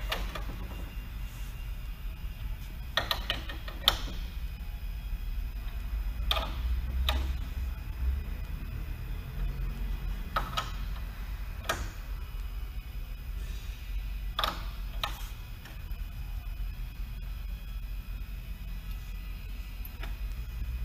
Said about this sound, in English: Screw these down evenly, and we're going to tighten these to 5 foot-pounds or 60 inch pounds.